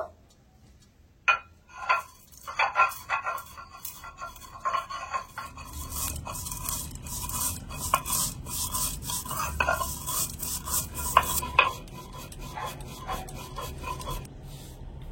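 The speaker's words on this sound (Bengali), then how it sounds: "এবারে গোটা মশলাগুলো ভালো করে একটু গুঁড়ো করে নেব।" Whole dry-roasted spices are crushed on a stone grinding slab (shil-pata), with rough rhythmic rasping and scraping strokes that are sparse at first and then run continuously and close for several seconds.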